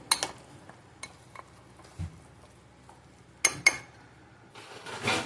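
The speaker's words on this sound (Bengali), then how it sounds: "এটা দিয়ে এবার ভালো করে মেখে নেব।" Lentil paste with green chilli, salt and sugar being mixed in a bowl, giving soft scrapes and a few sharp clinks in a quiet kitchen.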